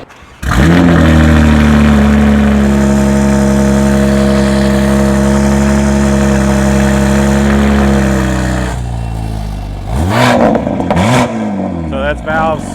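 A BMW G80 M3 fitted with a titanium Valvetronic exhaust and downpipes, valves closed, starts up loud and close and settles into a steady, deep idle, then gives two short revs near the end.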